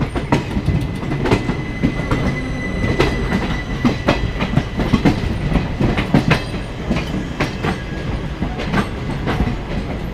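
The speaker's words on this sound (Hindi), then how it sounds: "एक ट्रैक को ज्वाइन कर रही है, और उसी ट्रैक पे हमारी ट्रेन आ रही है।" The 13151 Kolkata–Jammu express rolls through Shahganj station. Loud, steady wheel clatter runs throughout, with rhythmic clickety-clack over the rails and a few faint squeals, and no voices.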